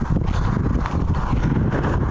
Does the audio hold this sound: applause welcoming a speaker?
no